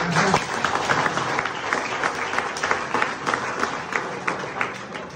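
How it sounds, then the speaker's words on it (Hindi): Audience clapping at a government college gathering in Ateli Mandi, a dense, steady round of applause that holds at an even level for several seconds with no talk over it. "तालियां तो बजा दो"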